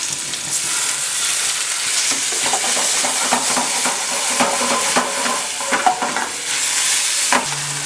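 Prawns coated in a spice mix fry in hot oil in a pan, giving a loud, steady sizzle with crackling bursts and occasional stirring scrapes throughout.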